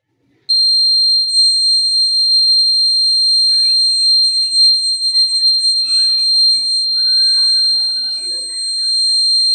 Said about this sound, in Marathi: लागल्यानंतर अलार्म कसा वाजते प्रात्यक्षिक बघा।